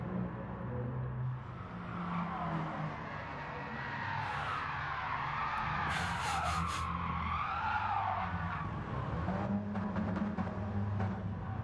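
Several race cars tire-squealing and skidding in unison under synchronised handbraking before a multiclass league race start at Brands Hatch, long overlapping squeals over steady engine drone, moderately distant.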